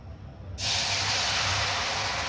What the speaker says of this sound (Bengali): এবার আমি দিয়ে দিব দুধটা